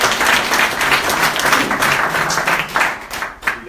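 An audience applauds with sustained clapping from many hands that holds steady and then tapers off into a few scattered claps.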